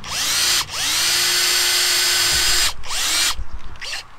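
A power drill bores a hole in a narrowboat bathroom panel, whining in long close bursts that slow and stop, with brief pauses and stuttering spin-downs near the end.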